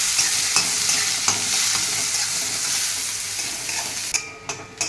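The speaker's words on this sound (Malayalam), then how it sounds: "നമുക്ക് നല്ല രീതിയിൽ തന്നെ വഴറ്റാം." Small onions and carrots sautéing in a pan, a steady loud sizzle with regular scraping stir strokes of a spoon, the hiss dropping briefly near the end between a few sharper scrapes.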